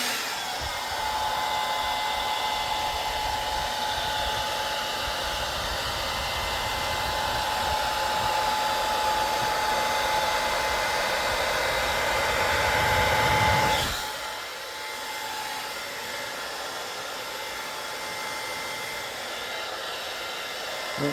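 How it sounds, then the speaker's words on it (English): A blow dryer roars steadily at close range for about fourteen seconds, then its pitch and force drop to a lower, softer setting and keep running. "Okay, I'm back with the blow dryer."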